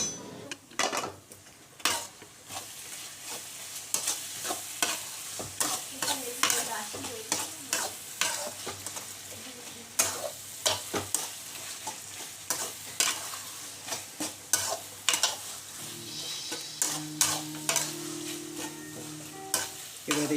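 Garlic paste frying with spices in a pan, with a spoon scraping and clattering against the metal as it is stirred; steady close sizzle under repeated sharp stirring knocks, with a low hum joining near the end.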